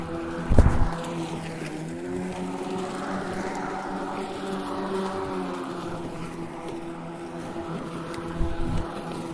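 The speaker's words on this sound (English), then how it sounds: "Motor sped up a little bit. Still quite a bit quieter than the gas mower though." A GreenWorks Twin Force electric lawn mower runs with a steady, fairly quiet motor hum and whine, close and continuous, with a couple of brief thumps near the start and end.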